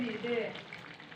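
Chicken frying in a pan gives a soft, steady sizzle for just over a second, partly covered by a voice at the start.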